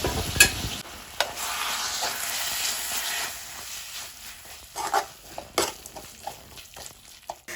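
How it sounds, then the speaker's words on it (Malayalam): Crab pieces are stirred and mixed in a pan of curry masala, with a soft sizzle under repeated close scraping and knocking of the spoon against the pan, no voices. "അങ്ങനെ ഞണ്ട് ഇട്ട് കൊടുത്തിട്ട് ഞാനത് നല്ലോണം മിക്സ് ചെയ്യുന്നുണ്ട്"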